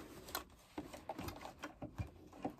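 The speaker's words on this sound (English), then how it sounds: "I'm going to bring it to my sewing machine" A home sewing machine stitching an in-the-hoop quilted bowl cozy makes faint, quick irregular ticks and clatters, close but very quiet, with no talking.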